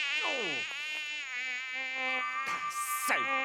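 A cartoon mosquito buzzes in whining, swooping tones that rise and fall as it darts close, several distinct passes in quick succession with no talking.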